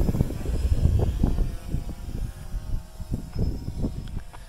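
A ModalAI VOXL m500 drone flying, its propeller whir steady and moderately near, with rhythmic pulsing bursts of rotor noise and wind buffeting.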